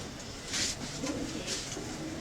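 A racing pigeon coos at a pigeon-fancier's loft, a soft, low murmuring coo repeated a couple of times, quiet and close over a hissy background with faint chirps above.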